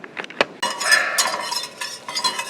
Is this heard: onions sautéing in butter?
yes